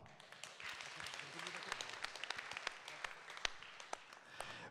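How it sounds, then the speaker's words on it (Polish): Audience applause at a TVP3 and TV Kraków thank-you segment, a dense crowd of claps rising steadily with scattered sharper individual claps, mixed with faint murmuring voices underneath. "Ogromne brawa."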